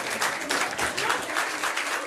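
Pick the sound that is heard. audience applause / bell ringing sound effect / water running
audience applause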